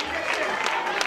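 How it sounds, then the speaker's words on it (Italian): Applause from an audience at the opening-night ceremony of a youth football tournament in Scalea, a brief burst of dense clapping with crowd noise, honoring a player. "Facciamo un applauso a Ivan Castiglia"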